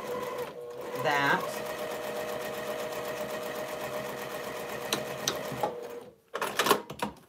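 A sewing machine stitching quilt binding, whirring steadily at a constant hum for several seconds, close and fairly loud, then stopping, followed by a few brief handling clatters. A voice speaks briefly at the start.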